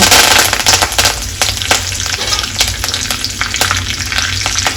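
Peanuts and curry leaves fry in hot oil for a Khandeshi dish, a loud, dense, crackling sizzle that runs throughout, close up, with sharp spattering pops and no voices.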